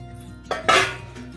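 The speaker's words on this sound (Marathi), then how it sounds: "त्याच्यावर एक प्लेट ठेवून देऊ जरा।" A steel plate is set down over a pot on a kadhai of warming water, giving a short clink and then a louder metallic clatter, close and brief, with a faint ringing tail and no voices.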